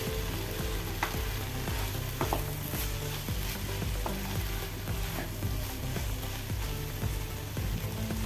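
Jackfruit seed and spinach thoran is stirred in a pan, with a continuous frying sizzle broken by repeated scraping and clinking of the spoon against the pan at an uneven, unhurried pace.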